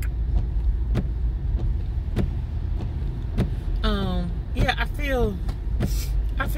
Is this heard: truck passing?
yes